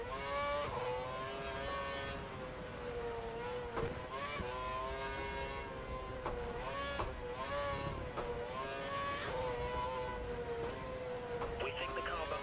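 Race car engine at full revs in the F1 2012 video game: a continuous high-pitched engine whine rises and falls through gear changes, with a voice talking over it throughout.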